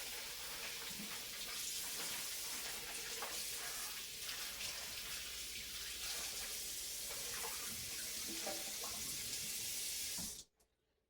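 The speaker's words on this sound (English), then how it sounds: "I have a roast, which I always rinse off with cold water before I do anything." A cold kitchen tap runs steadily over a roast being rinsed in the sink, a continuous close splashing hiss that stops abruptly near the end.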